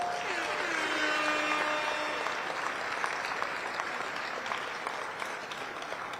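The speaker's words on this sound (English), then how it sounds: "Another round of applause for the City of Lights" Sustained applause from an audience at a city's State of the City address fills the whole stretch, steady and fairly loud, with a faint tonal sweep early on.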